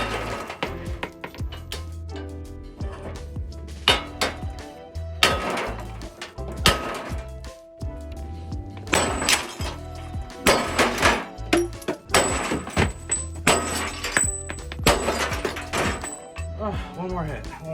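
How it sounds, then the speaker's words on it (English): Sharp metallic hammer blows on a Ford C-Max wheel hub to drive out a bearing ring out repeatedly in an uneven rhythm, close and loud, with a person talking between strikes. "We're just gonna hit it until the bearing comes out"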